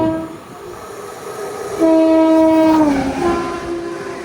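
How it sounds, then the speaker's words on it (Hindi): A passing train, the 12172 Haridwar–Mumbai LTT AC Express, overtakes a passenger train, sounding a sustained loud horn that bends down in pitch over a steady rumble of rolling wheels, heard from on board. "कोई तो ट्रेन ओवरटेक कर रही है आपको।"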